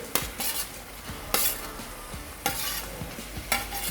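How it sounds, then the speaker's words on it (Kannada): Spoon scraping and stirring paneer into palak paneer frying in a pan, several sharp scrapes at a steady pace over a soft sizzle, close, no voices. "ಪನ್ನೀರ್ ಹಾಕೊಂಡು ಎಲ್ಲ ಮಿಕ್ಸ್ ಮಾಡ್ಕೊರಿ"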